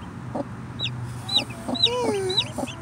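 Newly hatched baby chicks give high, thin peeps, close by and repeated several times, alongside low clucks from a brooding hen.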